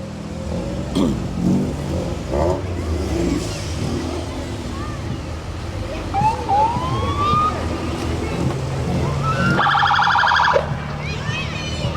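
Fire truck sirens wail in the distance during a Christmas parade, rising and falling over crowd noise and passing vehicles, with a louder pulsing alarm-like tone near the end.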